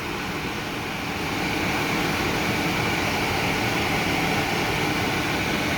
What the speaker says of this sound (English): Got a blower in here. That's our over the top blower